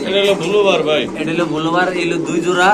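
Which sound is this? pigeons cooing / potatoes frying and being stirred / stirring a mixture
pigeons cooing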